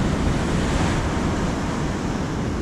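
Ocean surf rolling onto a sunny beach in southern France, a steady loud broadband wash of breaking waves with wind buffeting the microphone throughout, no voices.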